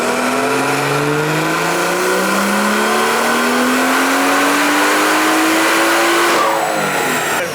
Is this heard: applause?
no